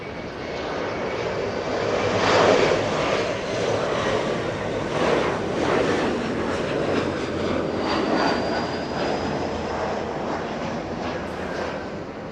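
A SkyWest regional jet arriving at Los Angeles International Airport from San Jose, its engine roar sustained and fairly steady at moderate distance, swelling slightly early on with a broadband rumble and faint whine throughout.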